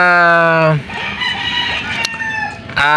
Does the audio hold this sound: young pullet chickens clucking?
yes